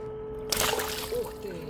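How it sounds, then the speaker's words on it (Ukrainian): A sudden splash of river water washes over people aboard a fishing boat on the Dnieper during evening feeder fishing, a short burst of spray and dribbling water after a quiet moment. "Ох, який нас водою обдав"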